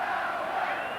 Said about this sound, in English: the crowd chanting Elway, Elway